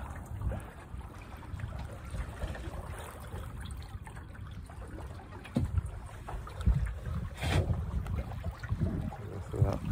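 Sailboat heading upwind in a breeze, with rushing water, wind buffeting the microphone and low sloshing against the hull, steady and close throughout.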